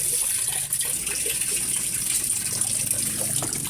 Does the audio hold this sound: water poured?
yes